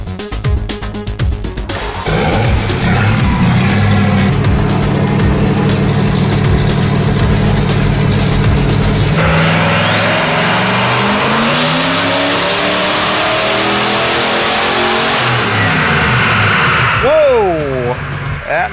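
A turbocharged 302 cubic inch engine roars loud and steady on a dyno pull, its pitch climbing as the revs build, then it drops off to a lower, whining wind-down at the end.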